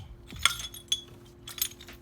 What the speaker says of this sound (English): Let me pick up the glass that was dropped.